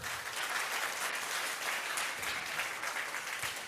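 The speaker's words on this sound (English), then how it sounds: "A round of applause for them as well." An audience at a high school debate quarterfinal applauds the debate speakers, with dense, steady clapping from a crowd, held at an even level throughout and no talking over it.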